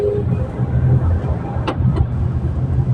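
Heavy, congested road traffic near SM Megamall in Manila, a steady low rumble of idling and creeping engines with a couple of brief higher clanks or horn-like bursts, and faint voices in the background.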